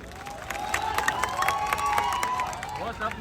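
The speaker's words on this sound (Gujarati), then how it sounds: "એક જોરદાર તાળી થઈ જાય" A crowd at a shop grand opening cheers and claps for MLA Kantibhai, a loud mix of applause, shouts and a whistle-like tone, with voices mixed in throughout.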